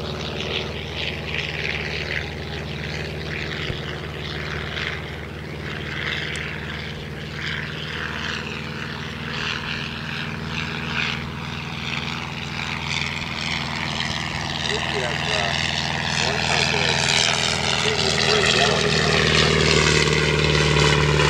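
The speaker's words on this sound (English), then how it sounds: "It's either landing or making a hell of a low pass." A propeller aircraft drones low over the Harrison River, a steady loud engine hum that swells gradually as it nears, with people talking over it.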